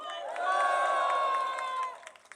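A large outdoor crowd at a conservative political rally roars and shouts together in one sustained, loud burst that swells and then fades into scattered calls.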